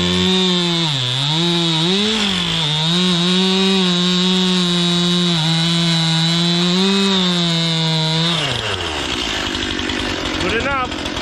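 A chainsaw cuts through sugar maple being prepared as smoker wood. The engine roars loud and close with a steady, buzzing whine that dips and recovers under load, then winds down near the end.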